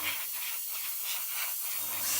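An airbrush hisses steadily, spraying thinned LP23 paint onto a 1/35 Ju87 Stuka scale model, with soft pulsing bursts close to the microphone and no talking.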